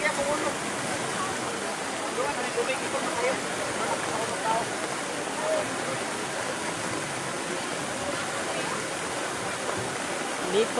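Rushing river water from a flooding creek surges around a pick-up truck, a steady loud roar of broad noise filling the whole stretch, with voices faintly mixed in.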